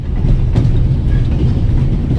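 A train rolls steadily along its rails with a loud, continuous low rumble and faint rhythmic clatter of wheels, close and filling the whole stretch, with no talking.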